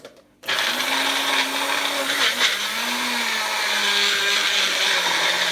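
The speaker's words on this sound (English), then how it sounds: "So we're gonna blend this amount right now." After a brief quiet start, a blender starts up and runs continuously, loud and close, its motor whine shifting slightly in pitch as it blends celery for juice with no liquid added.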